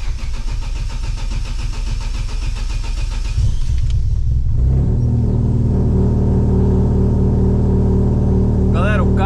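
A 1996 Opel Corsa GSI with a 1.6 16V engine turns over and catches, then settles into a steady, close, loud idle with light revs, and no one speaks.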